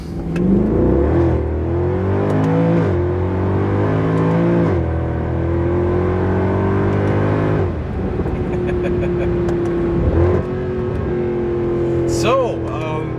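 A Mercedes-Benz W204 C63 AMG being driven, its engine note rising and falling through revs as it pulls away and shifts, loud and close, with a voice speaking briefly over it.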